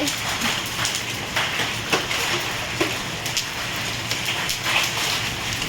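Hail falls in a steady, dense hiss of hard pellets striking surfaces, with sharper individual clicks and knocks scattered through the downpour, loud and close.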